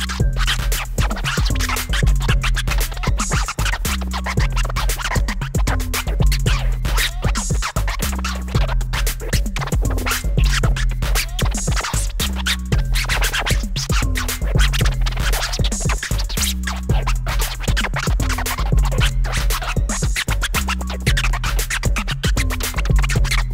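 Cassette tape scratched by hand on a battery-powered ScrubBoard Jr. scratch device, dense rhythmic back-and-forth scrubbed sounds over a beat, loud and continuous throughout.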